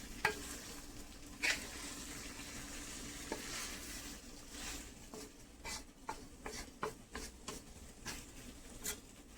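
Okra fries with spices in a pan on a stove set to medium, giving a steady close sizzle with intermittent scraping and stirring taps, no talking.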